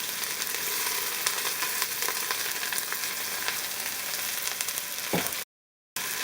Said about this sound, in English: The oil should be very hot. Add 2 onions.